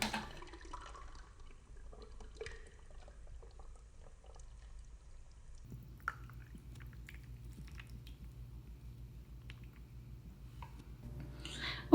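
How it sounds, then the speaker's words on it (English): Pureed Bloody Mary mixture from a food processor pours over ice in a glass, a soft, faint trickle over a steady low hum. "now you're going to pour this mixture directly over ice"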